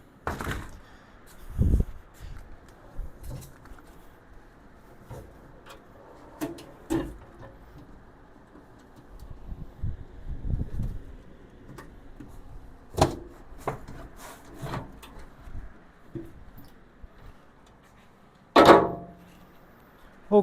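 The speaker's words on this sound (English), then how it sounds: "The drawers come out." Drawers of a Harbor Freight US General tool cart being pulled out and set aside, with scattered clunks, sliding scrapes and knocks of metal at irregular intervals, one sharp bang near the end.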